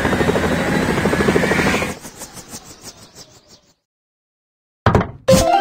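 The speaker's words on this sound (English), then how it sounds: "Firefighting helicopter." A cartoon firefighting helicopter in the children's Baby Panda vehicle-building game: a loud whirring rotor for about two seconds that fades into silence, followed by a couple of short clicks.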